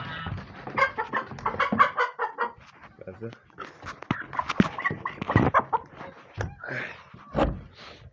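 Hens cluck and squawk nearby in irregular bursts, mixed with other animal noises and occasional voices.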